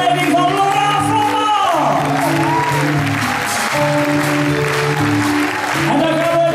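Audience applause at the finale of a winter revue stage show, loud sustained clapping with some shouts and cheers, under music from an orchestra, filling the whole span.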